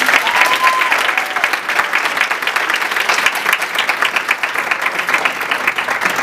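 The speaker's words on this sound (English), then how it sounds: "let's just give them a huge round of applause" An audience gives a round of applause, with dense, sustained clapping from many hands filling the room throughout and no break.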